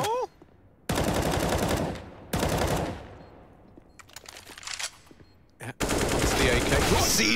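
AK rifle gunfire from the game CS:GO during an ESL Pro League match on Nuke: loud, dense bursts of automatic fire in several separate volleys, with short gaps and softer in-game sounds between them.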